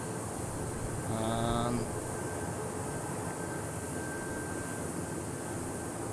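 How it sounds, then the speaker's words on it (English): A helicopter flies near Dallas Love Field airport, heard as a steady, fairly distant whooshing drone that swells briefly and then holds an even rumble over the outdoor background, with no talking. "Oh, I hear a helicopter."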